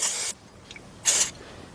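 Carburetor cleaner sprays onto spark plug wires of a 1999 Nissan Altima in two short, close hissing bursts separated by a pause, with faint handling sounds between and no talk.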